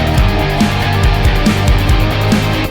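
A dense, full indie rock track plays loud and steady, with pulsing drums and thick guitars and bass in a continuous wall of sound, with no speech.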